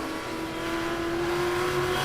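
Late model stock cars racing at Langley Speedway, a loud sustained engine roar with a steady droning pitch as the cars run close together, filling the whole moment without any talk.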